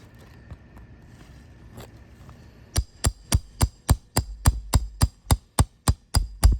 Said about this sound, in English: Back up a little bit so I can swing the hammer